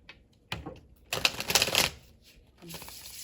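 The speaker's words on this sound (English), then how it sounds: "First, let's shuffle, because I want to clear the energy from the last reading." Tarot cards shuffled by hand in bursts of soft riffling and flicking, close and fairly quiet, with a louder run in the middle and no talking.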